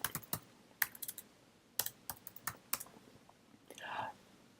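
Typing on a computer keyboard: clusters of crisp, close keystrokes arrive in irregular bursts, followed by a short soft rustle near the end.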